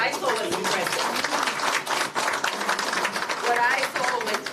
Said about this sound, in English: please can we get a round of applause?